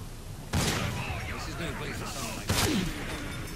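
Gunfire in Assassin's Creed Syndicate: two sharp shots crack out a couple of seconds apart over a busy din of shouting crowd and background commotion.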